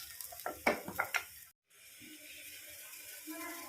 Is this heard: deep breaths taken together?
no